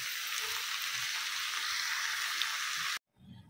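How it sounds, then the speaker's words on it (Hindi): Spinach and brinjal curry sizzles and fries steadily in a pan with a dense, even crackle that cuts off abruptly near the end, followed by a faint low rustle. "अब इसको अच्छे से चला लेंगे और 1 मिनट जितना इसको भी भूनेंगे"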